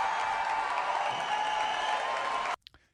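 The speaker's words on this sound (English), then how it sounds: "the crowd went wild" A crowd at a political speech applauds and cheers in a steady roar that stops abruptly near the end, leaving brief faint sounds afterward.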